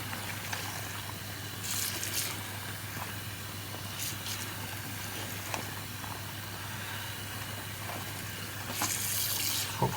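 Water steadily running from a tap into a container while a Hoover Commercial C1310 cloth bag soaks, a constant close hiss of pouring with brief splashes and handling noises.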